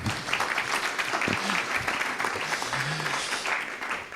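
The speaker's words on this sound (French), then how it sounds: "je vous invite à l'applaudir" A conference audience claps after a talk, a dense, even burst of applause from a moderately sized room lasting a few seconds, with a voice briefly audible beneath it.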